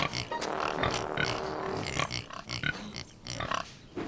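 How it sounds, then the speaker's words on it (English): Pigs grunt and oink in short bursts over a steady farmyard background, with several animals heard close by. "Thomas liked their curly tails and the funny noises they made"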